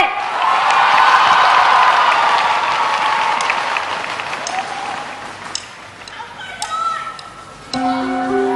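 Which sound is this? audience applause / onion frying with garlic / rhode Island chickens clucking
audience applause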